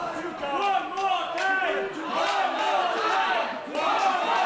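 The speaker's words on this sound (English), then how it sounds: "You can hear the crowd." A wrestling show crowd chants in unison, rhythmic rising and falling calls from many voices at a live indoor event, loud and sustained throughout.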